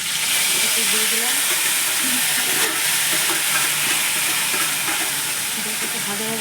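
Grated tomato puree with garlic and onion hits hot oil for an egg curry, giving a loud, steady sizzle and hiss that carries unbroken throughout, with faint stirring underneath.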